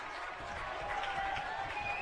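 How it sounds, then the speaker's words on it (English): Gretna East fans cheer at a state championship baseball game, a steady roar of crowd noise with scattered clapping, moderately distant and under a commentator talking. "Gretna East fans getting loud"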